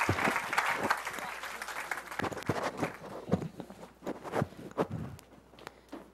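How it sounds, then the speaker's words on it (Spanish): Scattered, uneven clapping from a modest audience at a live science show, with individual claps standing out in irregular bursts that thin toward the end. "¡Un aplauso para Ana!"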